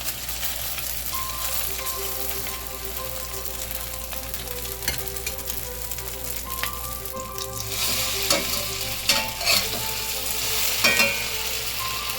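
Continuous sizzling of leftover dumpling-filling patties frying in a pan, with occasional louder crackles and spatters, close up and steady throughout, with no talking.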